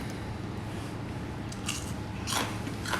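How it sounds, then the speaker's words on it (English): Crispy sabudana vada made with golden potatoes, bitten and chewed up close, giving a few short crunchy crackles over quiet background noise. "I'm going to take a bite."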